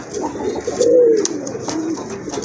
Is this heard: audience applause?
no